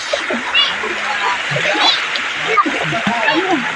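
River water splashes and burbles nearby in a steady, lively stream in Barangay Planas, Porac, Pampanga, with scattered voices and children's chatter mixed in.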